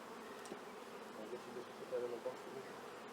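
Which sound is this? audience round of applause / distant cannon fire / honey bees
honey bees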